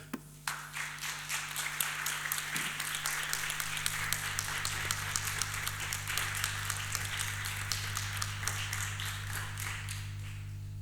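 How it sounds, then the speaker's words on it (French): An audience applauds steadily for several seconds, a dense wash of many hands clapping at a sustained, even level. "Je pense qu'on peut les applaudir."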